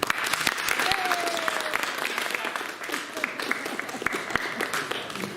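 Lively audience applause at a comedy troupe's show, a dense burst of clapping with cheers and scattered voices mixed in, holding fairly steady throughout.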